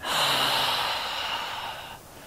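A long, steady inhale through the nose during a yoga flow, taken while moving into a low lunge; close and breathy, lasting about two seconds, then tapering off, with no talking.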